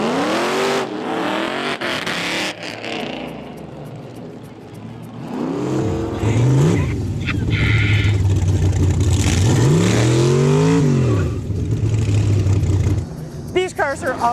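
Rat rod and hot rod cars of the Las Vegas Boneshakers rev loudly on the Las Vegas Strip at night, engines surging and falling in repeated bursts, with crowd voices and talk mixed in.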